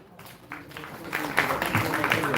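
Applause for team AUV at a university tech orientation starts faint and builds into a steady, moderate clapping from the audience, with speech over it at the start.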